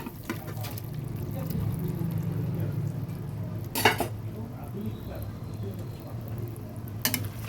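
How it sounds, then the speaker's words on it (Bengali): Greens and stalks being stirred into a catla fish curry with pumpkin vine tips and potato in a pan: soft scraping and light sizzling over a steady simmer, broken by two sharp utensil clanks. "ভালোভাবে নেড়ে দিচ্ছি"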